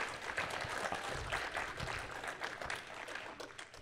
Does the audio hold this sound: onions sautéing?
no